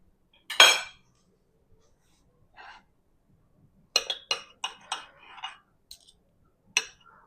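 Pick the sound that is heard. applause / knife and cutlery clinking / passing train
knife and cutlery clinking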